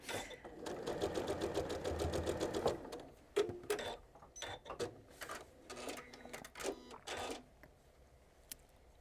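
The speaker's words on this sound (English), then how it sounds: "Is when you're sewing the seam" A sewing machine stitches a seam during chain piecing, its fast needle chatter running steadily for a couple of seconds, then breaking into short stop-start bursts with pauses between.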